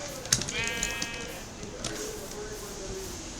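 A video game sheep gives a short bleat, with a faint background hum and a brief click or two around it.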